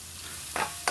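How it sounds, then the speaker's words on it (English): Garlic frying in a pan while herring buljol is cooked: a faint steady sizzle with two brief bursts of stirring or tossing near the end. "Then you put in your garlic after."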